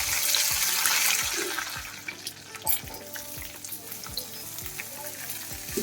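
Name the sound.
food frying in a pan with salt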